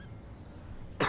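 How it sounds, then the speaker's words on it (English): One short, sharp cough bursts out at close range after a stretch of quiet room tone, loud and abrupt, with no talking around it. "I'm coughing on my existence."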